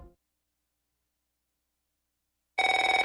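A telephone bell starts ringing after nearly two and a half seconds of silence, a loud, close, rapidly trilling ring with no talk over it.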